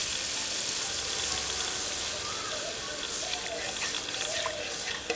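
Dissolved milk poured into a pan of frying pointed gourd (potol) sets off a steady, hissing sizzle that holds evenly throughout, with faint crackles on top.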